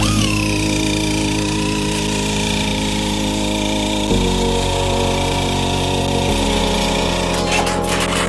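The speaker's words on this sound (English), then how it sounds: "Watch this DIYer use a battery-powered snow shovel to clear his walkway after a snowstorm." A battery-powered snow shovel clears a walkway after a snowstorm, its electric motor giving a loud, continuous whine that shifts pitch a couple of times as the load changes.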